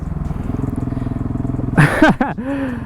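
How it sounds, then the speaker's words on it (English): A small moped putters on a Swedish street with a rapid, pulsing engine note, then a sharp burst of noise and rising whine as it passes close by. "Is that a moped?"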